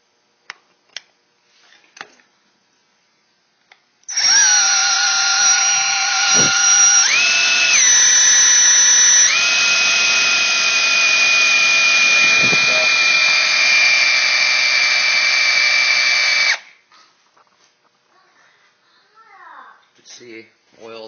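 Drill spinning an oil pump primer to prime a Ford 390 engine: a steady, loud high whine running about twelve seconds, shifting pitch a few times as load changes, between brief clicks before and after.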